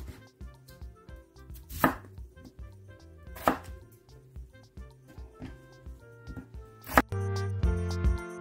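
A knife chopping potatoes into even pieces on a board: a few sparse, close, crisp cuts separated by quieter pauses, with faint background music underneath.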